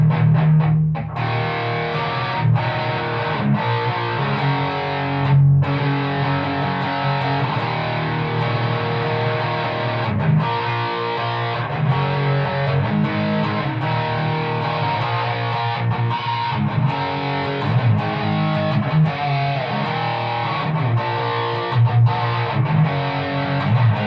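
A heavily distorted electric guitar plays a chugging, palm-muted riff with steady rhythmic accents, loud and up close, with no voices.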